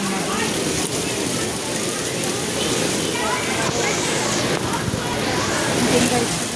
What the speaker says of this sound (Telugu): ఈ వర్షం పూర్తి మేము తడిసిపోతున్నాం అన్నమాట